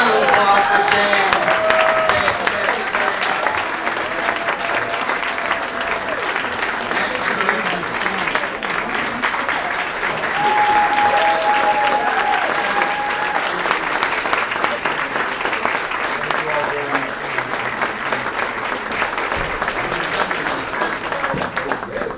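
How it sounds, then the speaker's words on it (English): Sustained audience applause at a keynote talk, a steady wash of clapping lasting over twenty seconds with scattered voices and a few whoops mixed in, staying fairly constant throughout. "Round of applause for James."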